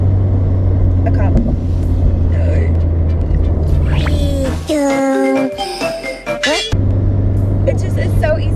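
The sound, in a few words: turbocharged Subaru BRZ driving fast through tight corners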